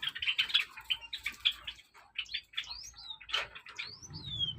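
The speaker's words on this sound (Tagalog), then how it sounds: "Meron pala tayong 16 na piraso na ibon sa loob nito at 4 yung Java Sparrow, bali 12 yung chestnut munya natin." Caged Java sparrows and chestnut munias chirp close by in a quick jumble of short, high tweets and thin whistled notes, with brief pauses between bursts.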